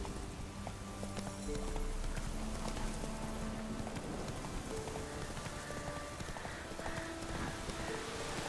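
Roach the horse gallops in The Witcher 3, a fast drumming of hooves under steady rain, moderately close, with soft tonal game music underneath and no talking.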